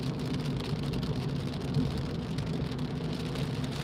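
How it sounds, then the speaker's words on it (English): Rain drums steadily on a car moving along a road from Walkden to Wigan on a very wet day, a dense, even patter over the low road and engine noise throughout. "We're getting rain again until we get back to Wigan."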